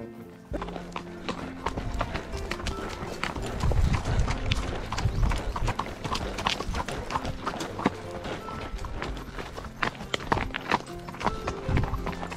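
Mountain horses' hooves clip-clopping along a trail ride, a steady close-up rhythm of overlapping hoofbeats continuing throughout, with a faint whinny or rustle now and then.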